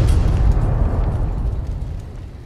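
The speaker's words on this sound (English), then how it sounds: "Well, that was a lot of explosions." Explosions go off in Fallout: New Vegas, a dense, booming roar that holds steady for the whole stretch, slowly thinning near the end, with no voices.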